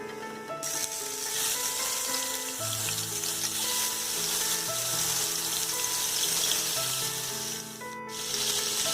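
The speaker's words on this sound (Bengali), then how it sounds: "এবার এর মধ্যে আমি চিংড়ি মাছ ছেড়ে দেবো" Tiger prawns sizzle steadily in hot oil, a close, continuous frying hiss that holds evenly throughout, with a faint tonal hum underneath.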